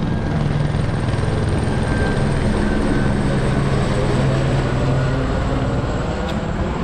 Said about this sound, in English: So this is some VIP helicopter coming from here.